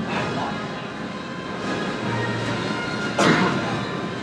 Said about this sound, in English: Oh, look, we're running empty trains.